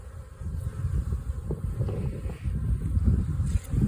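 Honey bees buzz around double-deep beehive colonies on a February day, a steady low drone of many bees that swells and fades with some wind noise, and no talking.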